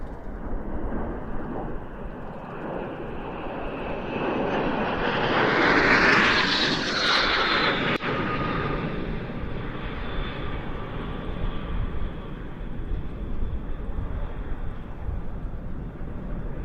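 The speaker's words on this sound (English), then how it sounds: "The L-39 is a rather ubiquitous sight at air shows." An Aero L-39 jet trainer flies past at an airshow, its engine roar swelling to a loud peak midway through the pass before fading into a steady distant rumble, with no voices.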